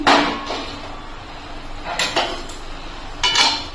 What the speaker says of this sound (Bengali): আমি এখন ঢাকা খুলে নিচ্ছি।